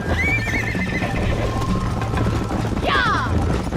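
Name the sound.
horse galloping in Red Dead Redemption video game race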